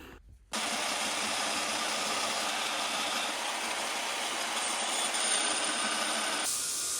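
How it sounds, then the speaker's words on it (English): A surface grinder thins and flattens a fossil canister Damascus steel billet, removing scale, with a steady, loud broadband grinding hiss that starts abruptly after a brief pause and runs continuously to the end. "Here's the surface grinder, just to thin things down, get all the scale off, flatten things out."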